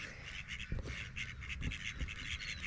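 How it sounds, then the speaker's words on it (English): Small group of ducks arriving at the end of the day, giving soft, repeated quacks at close range over a steady background of high-pitched birdsong or insect chatter. "Come on, little ducks."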